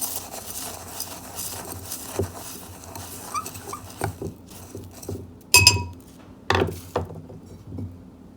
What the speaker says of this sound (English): Add the malachite to it. Mix it up a bit.